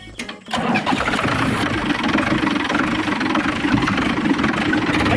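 A vehicle engine cranks and catches before a road trip, then settles into a loud, steady running idle close by with no talking.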